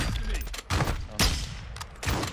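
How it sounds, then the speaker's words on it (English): Several gunshots fired at a bot in an online shooter game, sharp broadband bursts in an uneven cluster of about four or five loud, close reports with some background game noise. "I just shot this bot 3 times this bot."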